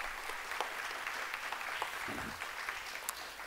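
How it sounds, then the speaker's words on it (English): A round of applause for graduating seniors at a Christian school's spring sports awards, heard as a steady, fairly faint wash of clapping from a crowd that runs through the whole moment without fading. "let's give our seniors a round of applause."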